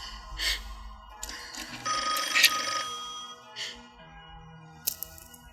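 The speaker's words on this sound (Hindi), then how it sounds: "वरना क्यों बजेगा इस वक्त फोन?" A telephone rings in short bursts separated by quiet gaps, moderately faint, with a few other soft noises in between.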